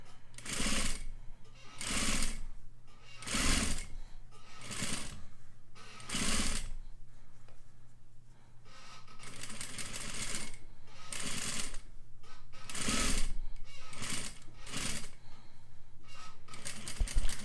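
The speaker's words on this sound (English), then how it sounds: "I'm pushing the facing over the seam allowance and sewing right on that edge close to the seam" A sewing machine stitches a bias facing close to the seam allowance, running in loud bursts with short pauses between them, a steady mechanical rattle throughout, close up and with no talking.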